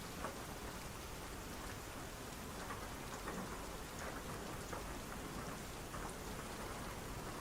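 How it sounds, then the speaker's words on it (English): Steady rain falls with rumbling thunder in the Microsoft Flight Simulator 2024 video game, a dense, even downpour with occasional low rolls that carries on unbroken and alone. "Oh, I love the rain."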